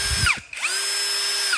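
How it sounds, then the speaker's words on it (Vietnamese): Cam Pro 2-in-1 cordless drill driver spinning up twice, with a short burst, a brief stop, then a longer steady high whine that ramps up and winds down, close and loud with no talk. "Khoan vít 2 trong 1 của Cam Pro nhá."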